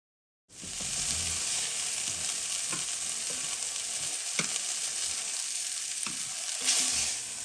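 Floured beef liver sears in a hot pan, a steady bright sizzle running alone for several seconds after a brief silent start, with a few faint clicks and a slight swell near the end.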